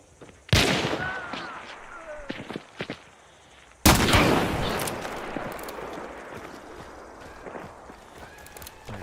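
Two loud gunshot blasts from an arcade shooting video game in a witch's-garden hunting stage, the first sharp and the second followed by a long rumbling decay, with faint game noises around them.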